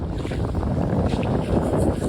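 Steady wind buffeting the microphone beside the Hudson River, a constant low rumble and rush with no pauses and no talking.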